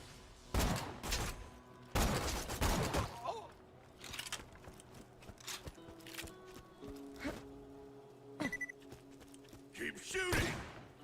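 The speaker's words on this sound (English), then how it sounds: "Keep shooting!" Gunfire in the shooter game Borderlands 2, several separate loud bursts of shots spaced across the stretch, with thuds and mechanical clicks between them and a voice talking over parts.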